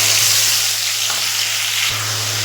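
Onion paste frying in hot mustard oil tempered with nigella seeds and green chilies, a steady bright sizzle with a constant low hum beneath, loud and close throughout.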